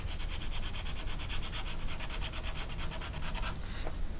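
A fine-tipped Faber-Castell Pitt pen colors on a page of an adult coloring book, making a steady, close, soft scratchy rubbing with quick regular strokes that stop near the end. No one speaks.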